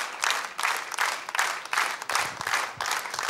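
Concert audience giving a standing ovation: dense, loud clapping close by, rising and falling in rhythmic waves over a few seconds, with no voices on top.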